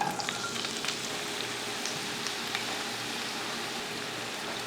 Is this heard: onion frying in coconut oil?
yes